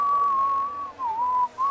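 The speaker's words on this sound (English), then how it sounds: "Still whistling because he's bored" A person whistles idly at close range, a single sustained tone that wavers and dips and breaks off twice before resuming.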